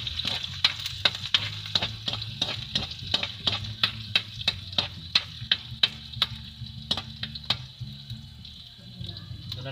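Sweet potato leaves being sautéed with garlic in a pan give a steady sizzle. A utensil scrapes and clicks against the pan in a regular rhythm for about eight seconds, then the frying continues alone.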